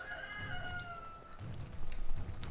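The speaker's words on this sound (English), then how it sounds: "there's a chicken going on and on with chicken noises" A chicken nearby makes drawn-out clucking and crowing calls, fairly faint over a background murmur, with a few soft knocks afterward.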